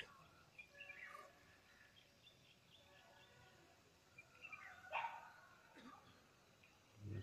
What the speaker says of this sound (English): That's a dog calling.